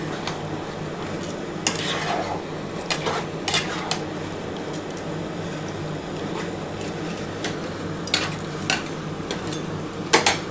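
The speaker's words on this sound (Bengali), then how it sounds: "খুব ভালো করে কষাতে হবে কিন্তু এটা।" Chicken and fried potatoes being stir-fried in a pan over a high gas flame, with steady sizzling and repeated scraping and clanking of a utensil against the pan, close and continuous.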